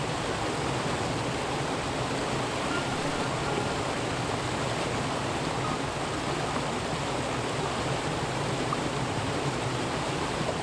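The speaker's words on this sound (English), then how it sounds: "as you may be able to hear, and in a minute you'll be able to see, just down there is a waterfall" A woodland waterfall at Kennel Vale rushes in a steady, broad, unbroken roar, close and constant with no voices.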